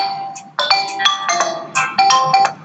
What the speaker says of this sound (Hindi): ये देखिए फ्रेंड्स, मेरे फ़ोन पे रिंगिंग टोन बजने लगी